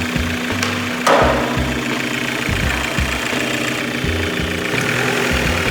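A converted engine idles loudly and close by with a rough, pulsing low-frequency throb. A sharp knock stands out near the start over a steady mechanical rattle.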